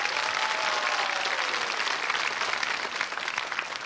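Applause from a studio audience at a television quiz show, a dense and even burst of many hands clapping at once, loud and sustained throughout.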